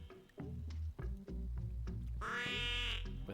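Odd, nasal quacking from the Kiss Duck video game character, several honking calls in a row ending in a brighter, buzzy squawk, clear and up close with no talking.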